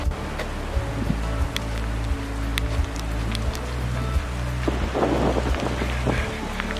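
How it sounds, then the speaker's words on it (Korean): Hail and rain falling during a thunderstorm on a mountain hiking trail near Saas-Fee, Switzerland: dense steady pattering and hiss of ice hitting the ground nearby, with sharp individual impacts and a low rumble underneath. "우박이 내리고 있어."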